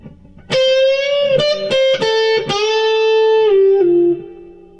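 An electric guitar plays a riff, a loud, close, sustained lead line with bends and several picked notes, slightly driven in tone, played alone with no talking.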